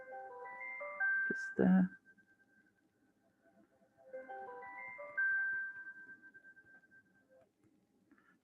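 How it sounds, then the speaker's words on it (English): A mobile phone rings with a melodic tone pattern, two bursts of repeating notes separated by a pause, moderately loud and close, with a brief knock and a spoken word between them. "Sorry, that's my phone going."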